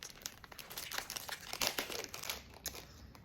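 A crinkly plastic wrapper on a pack of new cola-flavored Oreo cookies is pulled open, giving steady close-up crackling and rustling with several sharper crinkle bursts over about three seconds, with no talking.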